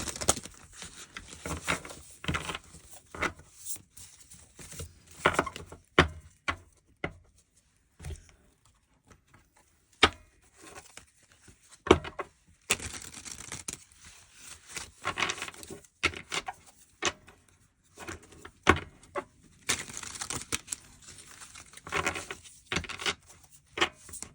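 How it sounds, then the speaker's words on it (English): A deck of tarot cards being shuffled in repeated bursts of riffling and patter, close up, with brief pauses between rounds. "we're going to shuffle your clarifying deck"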